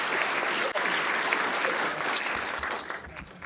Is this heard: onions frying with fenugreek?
no